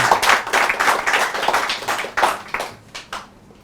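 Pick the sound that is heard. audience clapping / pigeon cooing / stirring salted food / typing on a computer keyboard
audience clapping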